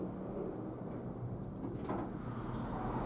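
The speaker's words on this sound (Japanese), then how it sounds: "ドアが開きます。" Elevator sliding door opening at a Japanese train station passage, a low rumbling slide with a brief hiss near the middle, moderately close and continuous.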